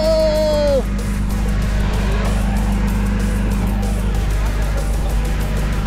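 A vehicle rolls past on a mountain road near Harsil, its loud, steady engine rumble filling the scene while a brief whining tone fades out early on.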